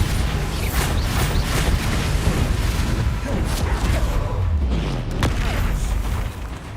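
Blasting Bombarda spell explosions in the Hogwarts Legacy video game, a dense run of deep booms, rumbles and creaking crashes that carry on loudly through the whole stretch without pause.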